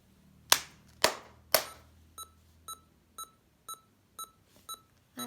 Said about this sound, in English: now if I clap my hands 3 times, it will imitate the speed of my claps